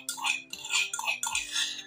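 Metal utensils clink against a bowl several times in quick bursts as ginger-chili paste is added to gram flour batter for khandvi, close and fairly loud.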